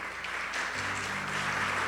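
A church congregation applauds in a steady, moderately loud wash of clapping that runs through the whole short stretch, with a low musical hum underneath.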